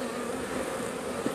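Honey bees buzz around hive frames during a honey harvest, a dense continuous droning hum of many insects close by, with a faint thump near the end.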